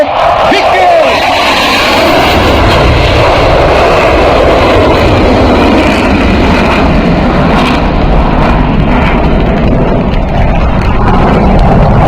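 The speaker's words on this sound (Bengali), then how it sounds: "প্রদর্শনের পর MiG-29 বিমানটি এখন অবস্থান নেবে প্যারেড গ্রাউন্ডের উত্তর পশ্চিম প্রান্তে আজকের চূড়ান্ত প্রদর্শনীর জন্য" MiG-29 fighter jet at an air force aerobatics display over a parade ground: a loud, sustained roar of jet engine noise fills the whole stretch, with crowd noise and a faint announcer voice mixed in.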